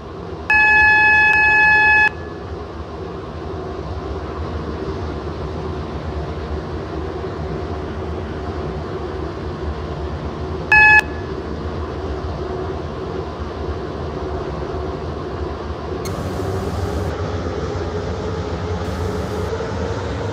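A double pacer train drives in a railway simulator game, its engine a steady low rumble throughout, with a loud multi-tone horn or beep near the start and a second short blast midway, then a shift in tone late on.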